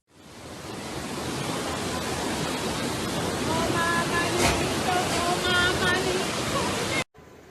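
A loud, continuous roar of floodwater rushing through streets in Tuscany, Italy, after heavy rain fills the scene steadily before cutting off abruptly; faint voices are briefly audible beneath it.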